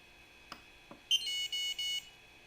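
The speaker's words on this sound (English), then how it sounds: "It beeped." An Ender 3 3D printer with an SKR Mini E3 board and touch screen beeps at startup after a couple of faint clicks: one short high beep followed by three steady, evenly spaced electronic tones, fairly close and clear, with no talking.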